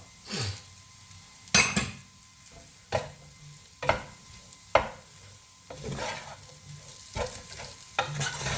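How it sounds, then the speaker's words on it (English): Fresh vegetable noodles with pepper are stirred in a pan: repeated sharp scraping strokes of a utensil against the pan come every second or so over a soft, low sizzle, close up and without any talking. "Keep stirring so that it coats it very well."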